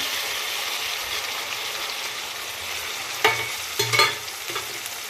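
Tomato fries in a pan for Rayalaseema uggani under a constant bright sizzle, with a few louder spoon scrapes and stirring knocks near the end, close up and without speech.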